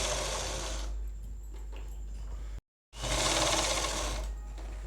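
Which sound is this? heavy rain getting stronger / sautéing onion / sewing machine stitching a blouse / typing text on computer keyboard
sewing machine stitching a blouse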